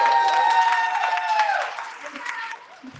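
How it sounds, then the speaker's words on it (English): An audience claps through a live talk show event, a fairly full round of applause that fades over a few seconds, with an amplified voice and a sustained tone layered over it. "Well, another round of applause,"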